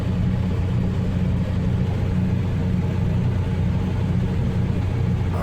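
A 1.9L TDI diesel swapped into a one-ton Dodge Dakota climbs a grade under heavy boost at low revs, a constant deep droning rumble mixed with road and wind noise from inside the cab.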